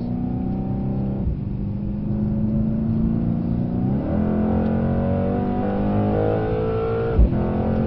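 A 2025 Mercedes C63 AMG lapping the Brooklands track, its engine droning loudly and continuously from inside the car, dipping briefly as the driver lifts, then revving back up with rising pitch under hard acceleration.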